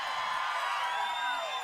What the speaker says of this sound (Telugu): ఈ కేకలే నాకు రాత్రి అంతా వినపడుస్తూ ఉంటాయి